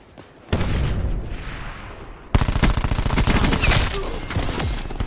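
Gunfire in Call of Duty: Black Ops 4, a steady stream of rapid, close automatic shots that jumps louder partway through and keeps rattling to the end.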